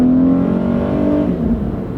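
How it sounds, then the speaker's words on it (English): A Honda car's engine runs steadily while driving, a loud continuous hum with a rising then easing tone, heard close and alone with no talk. "The engine's totally solid."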